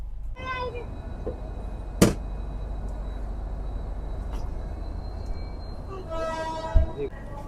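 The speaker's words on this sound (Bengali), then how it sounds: "ফাইনালি শিলিগুড়ি জংশন থেকে আমাদের ট্রেন ছেড়ে দিল" The Kanchankanya Express rumbles steadily as it pulls out of Siliguri Junction, with a loud horn blast near the start and another later, and sharp clanks in between.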